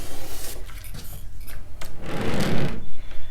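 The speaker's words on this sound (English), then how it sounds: "I'm going to add a little bit of pressure, and I'm going to cut" Blade cutting off the edges of a fabric quilt block along a 30-degree triangle ruler, a loud, close, continuous rough swishing pressed firmly through the cloth.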